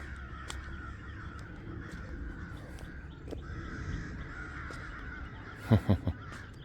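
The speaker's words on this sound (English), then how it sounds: "How many crows are there?" Crows cawing outdoors on a walk, a few faint calls scattered through steady outdoor ambience, then a louder, closer burst of three caws near the end.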